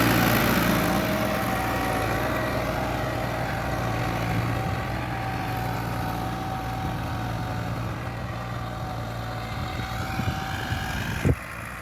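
An ATS 290 82 hp tractor, fitted with a plough (dholi) for field tillage during a company test run, sends out a steady, loud diesel engine drone that holds throughout, with a brief sharp knock near the end.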